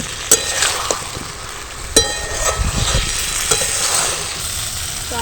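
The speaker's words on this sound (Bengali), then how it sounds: "আলুগুলো দিয়ে দিলাম, আলুর সাথে মশলার সাথে একটু কষিয়ে নেব।" Fried potatoes are stirred with spices in a pan for aloo dum, a soft, steady sizzle broken by sharp scraping clinks of a spoon against the metal, heard close with no talking.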